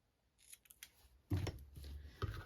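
Scissors snip the trimmed end of a ribbon on a hanging gift box made of designer series paper, a few close, crisp cuts with light handling noise and no talk.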